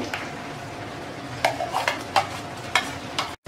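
A spoon scrapes and knocks against a pan in irregular strokes as thick boiling mango jam bubbles and sizzles steadily underneath.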